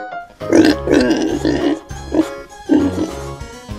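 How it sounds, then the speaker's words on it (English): A pig grunts and oinks in a series of short, loud, close snorting bursts, roughly five in quick irregular succession, with no speech. "Pig."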